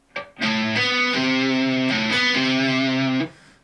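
A distorted electric guitar plays a two-note phrase, a B on the high string against a C on the low string. The notes ring loud and sustained, change partway through, and stop abruptly with no voices.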